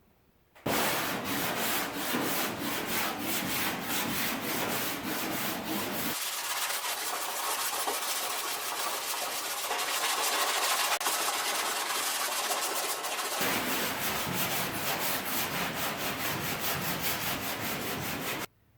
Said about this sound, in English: And there you go, all sanded down again.